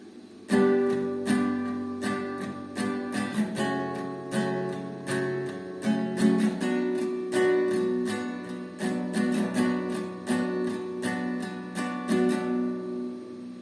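An acoustic guitar strums the verse chords of Justin Bieber's Lonely with a steady, even strumming pattern, one strum group per chord, moderately quiet and alone without voices.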